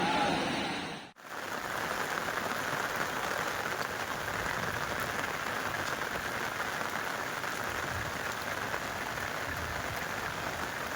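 Heavy downpour falling steadily, a dense continuous hiss of rain on surfaces that starts abruptly after a brief cut near the beginning and holds at an even level to the end.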